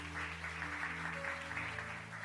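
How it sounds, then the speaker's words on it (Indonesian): Audience applause welcoming a guest at a church service, moderately soft clapping over a sustained musical hum or keyboard tones. "Kita sambut dengan tepuk tangan yang meriah."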